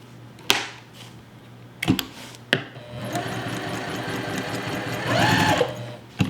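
A sewing machine runs steadily for a few seconds stitching a quilt seam, its rapid mechanical whirr close and clear, preceded by a few sharp knocks and clicks.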